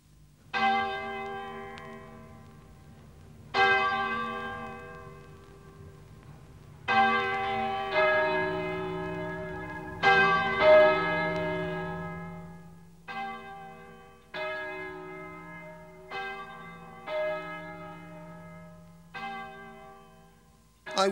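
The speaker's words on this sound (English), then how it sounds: "I wonder why the church bells are ringing." Church bells ring out in a slow, uneven peal, each strike clear and resonant with long decaying tones, heard alone without voices.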